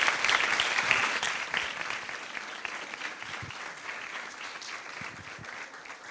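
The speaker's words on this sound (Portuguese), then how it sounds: "mais um aplauso a ela" An audience applauds at a presentation by Bárbara Tinoco on the program "Encontros no Palácio de Belém". The dense clapping starts strong and gradually tapers over several seconds.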